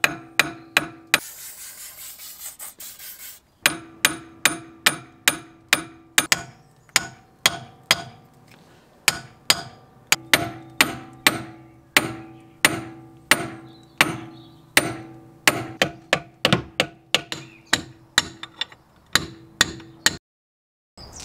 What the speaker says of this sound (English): So I'm gonna just try to hammer it out.